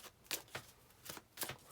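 A deck of tarot cards being shuffled up close, three or four quick riffling bursts in under two seconds with short pauses between them, no voices.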